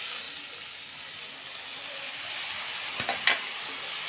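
A low, steady sizzle of vegetables frying in a pan carries on throughout, with a few sharp clatters and splashes near the end as washed spinach goes in.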